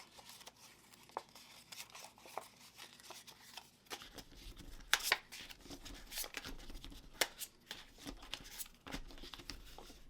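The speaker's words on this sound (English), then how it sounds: "What we're going to do is we're going to fold on all the 4 lines." Paper is folded along scored lines for an accordion file: quiet, irregular crinkles, soft creasing taps and rustles that grow busier in the second half, with no talking.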